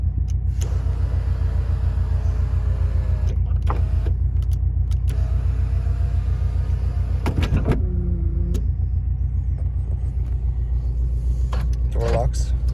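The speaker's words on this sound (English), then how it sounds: "the moonroof opens and closes" A 2001 Subaru Impreza GC8 coupe's moonroof motor whirs through an opening and closing cycle, with brief mechanical clicks and creaks over a constant idling engine rumble; a voice is heard faintly.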